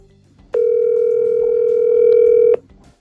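A steady telephone dial tone on a phone line sounds loud and unbroken for about two seconds, then cuts off abruptly, with faint background noise before and after it.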